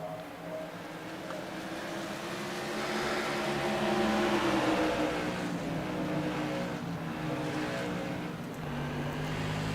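Touring race cars roar past in a continuous pack, engines droning and swelling as they pass closely, with no talk over the steady motor noise.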